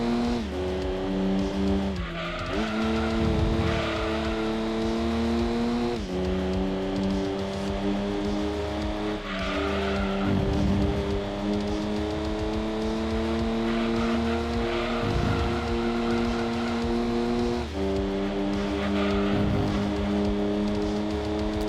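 Race car engine from Gran Turismo 2 on PlayStation, driving a 1960s-era sports car, holds a steady loud whine with gear-shift drops every few seconds and bursts of tire squeal, continuous with no talk.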